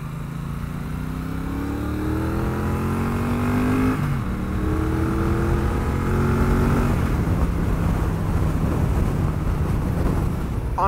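A Triumph Bonneville Bobber 1200 motorcycle engine drones steadily and loudly at about 55 mph while riding in fourth gear, its pitch climbing, dipping briefly, then climbing again, with constant wind rush underneath.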